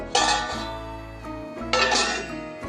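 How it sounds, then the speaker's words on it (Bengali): A metal karahi is set down on a gas stove and a lid is placed over it, giving two close, bright metallic clanks with ringing tails over a low steady hum. "এবার কিন্তু সরাসরি এটাকে কড়াই শুদ্ধ আমি গ্যাসে বসিয়ে দিলাম, দিয়ে একটা ঢাকা চাপা দিয়ে দিচ্ছি"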